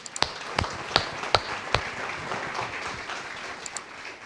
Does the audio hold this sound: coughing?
no